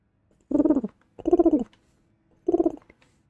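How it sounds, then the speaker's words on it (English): Three short cooing calls like a pigeon sound in the Malenia boss fight in a video game, each about half a second long, clear and close against near silence. "Yeah, the pigeon sound."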